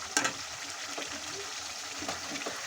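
Mutton pieces drop into sizzling fried masala in a pan, a brief close hiss and fry crackle with a small clatter at the start, fairly quiet.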